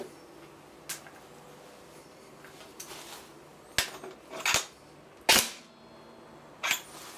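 An upgraded airsoft Socom pistol fires through a chronograph, producing several sharp, isolated snapping shots at irregular intervals against a quiet workshop background.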